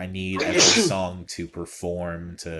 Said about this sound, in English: you just sneezed